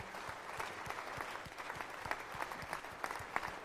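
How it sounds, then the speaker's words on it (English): Audience applause at an entrepreneur town hall in Ghana, a steady, dense crackle of many clapping hands heard from a distance, continuous throughout with occasional sharper claps. "Let's give him a big round of applause, ladies and gentlemen."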